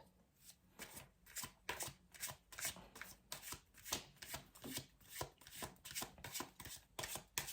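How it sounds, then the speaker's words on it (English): Tarot cards shuffled by hand in a steady run of crisp, riffling bursts, repeating roughly every half second, close and fairly quiet with no talking. "Let's pull another card for this."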